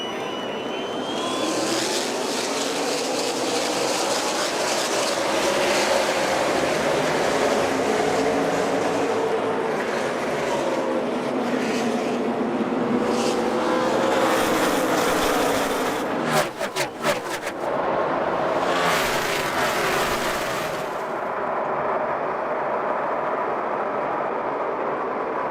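NASCAR stock cars race in the 2012 AdvoCare 500, a dense, continuous engine roar that swells and surges for most of the span, then thins toward the end.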